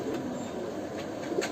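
An old, large Doobaz pigeon coos softly in a low, murmuring tone, a close and continuous sound with faint sharper chirps above it.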